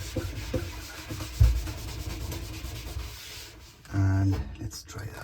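A magic eraser scrubs ink marks off the metal surface of a clothes dryer: a low, rough rubbing with a soft knock early on, then a louder burst of rapid back-and-forth scrubbing near the end.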